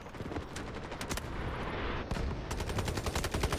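Rapid automatic gunfire from the Delta Force video game, an M7 rifle firing in fast, dense bursts with a brief pause midway, loud and continuous throughout, with no voices.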